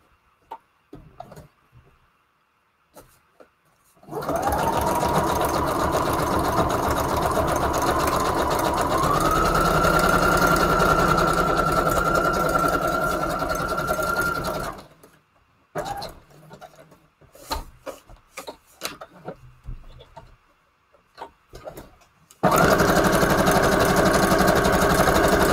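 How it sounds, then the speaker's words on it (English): A sewing machine stitches craft paper pages, running loud and close in two long, steady whirring bursts with quiet shuffling and handling in between. "we got one more page to sew up"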